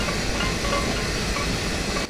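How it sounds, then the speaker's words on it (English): A Union Pacific Big Boy steam locomotive running in the Train Sim Classic video game: a loud, continuous rumble with steady hiss and a faint rolling clatter, close and unbroken throughout. "I know the big boy isn't the largest steam engine in the world"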